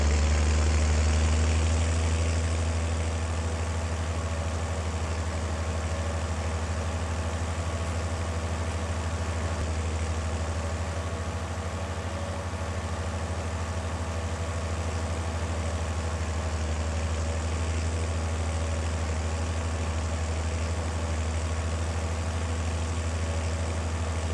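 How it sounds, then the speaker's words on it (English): Yellow tractor engine in a farming video game, idling with a deep, steady low rumble that runs close and unbroken, slightly louder at the very start. "I went and grabbed a yellow tractor and brought it over here."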